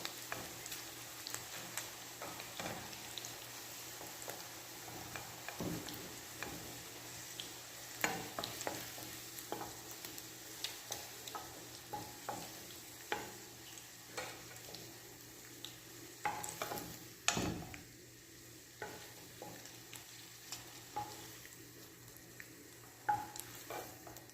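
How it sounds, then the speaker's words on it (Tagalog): Hotdogs fry in a pan with a soft, steady sizzle. Occasional stirring clicks and light taps against the pan sound close but quiet. "pagkatapos nating ma-fry mga ka-recipe yung ating hotdog"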